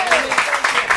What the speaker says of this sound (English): Let's clap our hands and tell the Lord thank you.